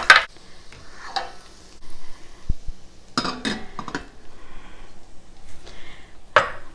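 Peppers cooking in a pan sizzle faintly in the background while metal utensils clink and scrape against the pan in sharp, scattered bursts, close and fairly loud, with no speech.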